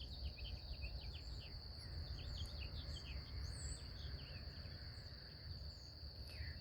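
Crickets trill steadily in the early morning under a tree on a Tennessee farm, a faint continuous high chorus with small birds chirping intermittently and a low rumble beneath.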